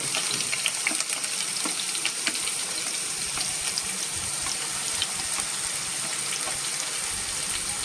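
Grated onion and tomato fry for paneer bhurji in a pan, giving a steady, close crackling sizzle with scattered pops and light stirring scrapes throughout, no voices.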